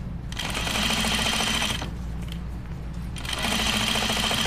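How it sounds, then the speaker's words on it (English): A sewing machine stitches denim jeans straight over perpendicular pins, running in two close bursts of rapid needle chatter with a slower, quieter stretch between them. "I just sew right over the pins when they're perpendicular like this"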